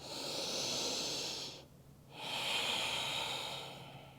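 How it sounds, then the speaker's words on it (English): Slow, audible breaths during a yoga forward bend (Padahastasana): a long, steady airy breath, a brief quiet pause near the middle, then another full breath, close and alone with no talking. "Breathing here."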